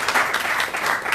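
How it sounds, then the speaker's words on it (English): A roomful of people at a brunch event applaud again, a brief burst of dense, even clapping heard close and fairly loud. "Est-ce que vous pouvez applaudir encore"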